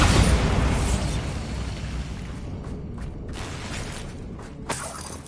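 A Bombarda blasting spell explosion in Hogwarts Legacy erupts in a loud burst of booming, shattering debris that slowly decays into rumbling, with a small pop near the end and no voices.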